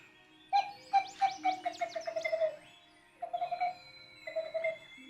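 A Lamy birdsong whistle mimics a Western screech owl with a run of hollow, bouncing pings that speed up like a dropped ping pong ball, then two shorter repeated bursts, close and clear.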